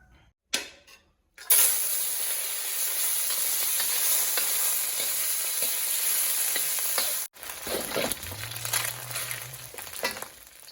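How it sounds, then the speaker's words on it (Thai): Fish skin crackles and sizzles steadily in hot oil, close and loud, with a brief cut partway through before the frying noise picks up again along with a low hum. "จะทอดหนังปลาครับ"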